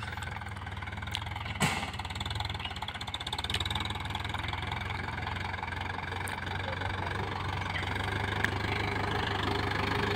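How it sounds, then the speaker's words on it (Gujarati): A tractor engine runs steadily while sowing garlic in moist farmland, a low knocking diesel drone that holds at an even, moderate level, with occasional faint clicks. "ટ્રેક્ટર ચલાવે છે"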